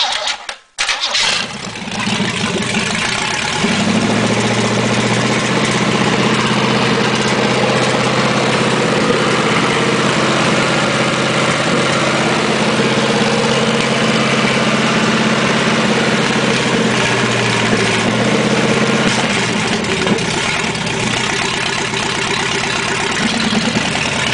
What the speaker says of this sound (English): And that's how you start an engine that's been sitting a while.